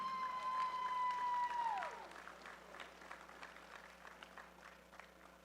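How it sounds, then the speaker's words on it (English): Applause from an audience at a powerlifting national championship awards ceremony, faint and distant, following a fading tone, with scattered claps tapering off. "Give him one more round of applause"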